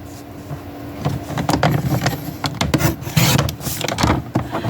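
A paper card is trimmed with a quick series of close scraping, rubbing cuts, uneven bursts rising and falling over a light background hiss.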